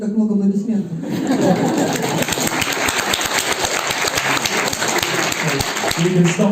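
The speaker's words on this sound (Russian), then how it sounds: "I didn't realise there'd be so much clapping" An audience at a parkrun conference presentation breaks into steady clapping after a short pause, many hands together with dense sharp claps, while a voice is briefly heard before it.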